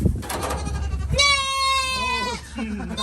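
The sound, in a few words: goats bleating on a farm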